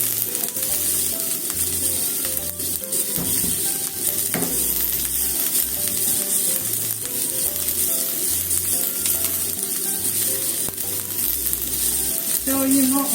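Green peppers fry in a pan for a stir-fried pepper dish, giving a steady, fairly loud sizzle with intermittent stirring scrapes throughout.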